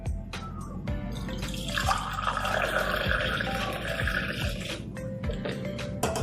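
Freshly made ginger tea is strained and poured into a small cup, a close, gentle stream of liquid splashing steadily with a few light clinks and knocks of utensils.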